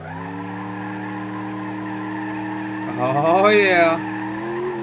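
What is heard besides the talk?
truck tire burnout from BeamNG.drive video game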